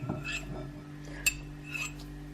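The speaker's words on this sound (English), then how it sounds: "we're just going to stir" A spoon clinks against a bowl while stirring icing sugar mix for a Bakewell tart, soft scraping with a few light taps, close and quiet.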